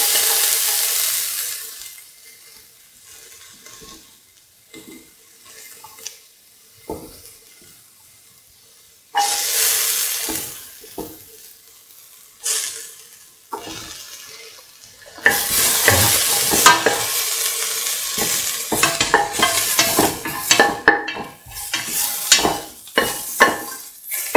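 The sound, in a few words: cardamom and shallots frying in a pan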